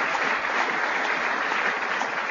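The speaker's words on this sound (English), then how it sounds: "Can we give them a round of applause?" Audience applauding law enforcement officials at a crime reduction summit, a dense, steady wash of clapping from a large crowd that fills the whole stretch without letup.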